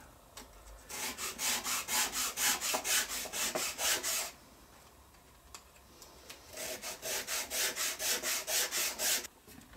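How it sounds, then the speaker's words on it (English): 180-grit sandpaper is rubbed along the grooves of a wooden gnocchi board in quick, rhythmic back-and-forth strokes, two close, clear bursts of about a dozen swipes each, separated by a short pause. "using the same sandpaper, you're going to place it into a groove"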